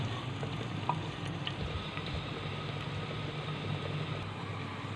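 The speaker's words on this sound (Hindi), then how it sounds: "अब हम इसमें प्याज शामिल करेंगे और इसको लाइट पिंक होने तक फ्राई कर लेंगे।" Onions frying in hot ghee in a home kitchen, a steady close sizzle and crackle with a soft low rumble underneath, continuous throughout with no talking.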